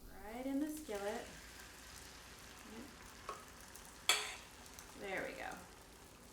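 Eggs sizzle in a skillet over medium-low heat while being stirred for breakfast tacos, a steady quiet frying hiss under a few brief spoken words and a sharp clink.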